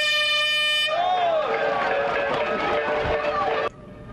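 An air horn starts the 2015 Dongshan River duathlon at Qingshui Park in Yilan, where more than 600 athletes face a run and bike course. One long, steady blast sounds for about a second, then gives way to crowd hubbub and chatter.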